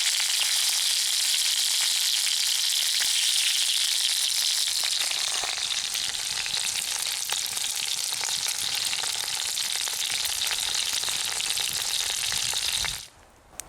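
Pork sausage and bacon fry in a cast iron pot over an outdoor fire, giving a loud, continuous sizzle and crackle with no talking until it cuts off at the very end.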